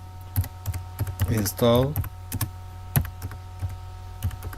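Computer keyboard keys tapped in short irregular bursts while a command is typed at a command prompt, with a voice speaking over the clicks.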